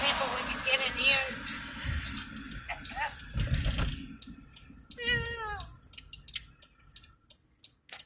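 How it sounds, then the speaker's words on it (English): A cat meows after being scared by an air horn, a clear wavering cry midway, surrounded by scraping, clicking household noise and people talking nearby. "Scared the kitty cats."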